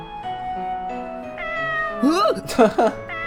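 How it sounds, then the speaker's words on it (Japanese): Cat meowing in the horror video game Corpse Party Book of Shadows: two or three loud, rising and falling meows near the end, over steady tonal background music. "An adorable meow."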